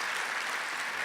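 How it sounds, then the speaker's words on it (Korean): Brief burst of congregation applause in a church service, a dense wash of many hands clapping together for young couples who performed with a full band. "우리 영커플들에게도 격려의 박수 부탁을 드리겠습니다."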